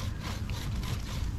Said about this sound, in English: we're just sawing through a branch, taking it off